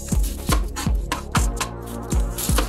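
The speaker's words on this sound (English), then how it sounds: "First, we'll cut the onion." A sharp kitchen knife chops an onion on a cutting board for cauliflower stir-fry, giving about six crisp, close thuds in an uneven but steady rhythm.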